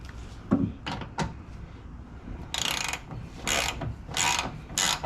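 A hand ratchet tightens a 10mm screw holding a mud flap on a Ford Bronco, first a few separate clicks, then four bursts of fast buzzing ratcheting, close and clear with no talking.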